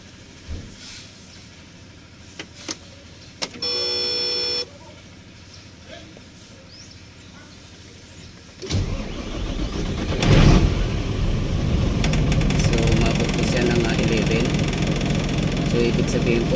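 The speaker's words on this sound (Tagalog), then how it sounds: "Yan, so start ko po yung makina" A car engine cranking and starting during a battery starting voltage drop test: after clicks and a short beep, the engine turns over and settles into a loud steady idle, with people talking nearby.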